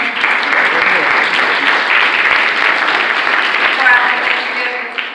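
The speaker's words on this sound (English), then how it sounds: "another round of applause" Loud, dense audience applause filling the room in a continuous roar of clapping, holding steady throughout before easing slightly at the very end.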